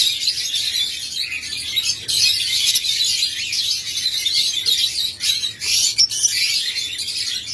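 Pairs of lovebirds, including high-mutation birds, chirping in a cage: a busy stream of shrill, overlapping tweets and squawks, fairly close and continuous.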